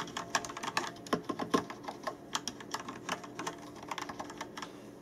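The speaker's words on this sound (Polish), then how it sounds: "Przy okazji od razu posłuchajcie sobie, jak ta klawiatura pracuje." Typing on a Rapoo V700 mechanical keyboard with Kailh Yellow switches produces quick, close clicks in uneven bursts, moderately quiet, with no speech.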